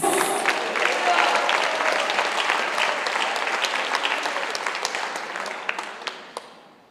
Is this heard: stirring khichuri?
no